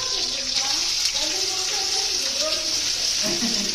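Sliced onions deep-frying in hot oil for chicken biryani give a steady, dense sizzle and hiss with continuous bubbling crackle, close and loud throughout.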